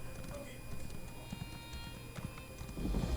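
Horse hooves clip-clop as a rider travels on horseback in The Elder Scrolls Online, a steady soft rhythm in the low end with game ambience, growing louder near the end; someone talks over it.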